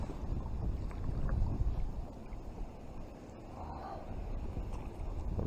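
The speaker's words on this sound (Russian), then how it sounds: "Волна большая, ветер сильный." A small fishing boat rides out strong wind and big waves, with steady wind buffeting the microphone and low rumbling water sloshing against the hull throughout.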